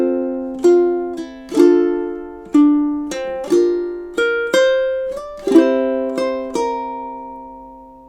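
Ukulele plays two measures of a song alone, a steady series of about ten plucked and strummed notes with clean attacks and ringing decays.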